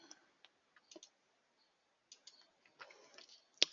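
A computer mouse clicks while a folder is being chosen, giving a few faint, sparse, close clicks spread out over quiet, with one sharper click at the end and no speech.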